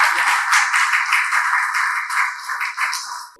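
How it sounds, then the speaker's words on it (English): Applause in a hall at a Jamaica–India investment event, many hands clapping close and loud, then fading out near the end. "I want to give you to give him a very special round of applause."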